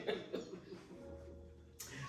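Two sharp coughs right at the start, close and fairly loud, followed by quiet breathing and faint rustling.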